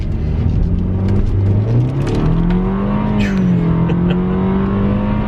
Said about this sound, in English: which is get out on the road and drive. Let's give it a little go here.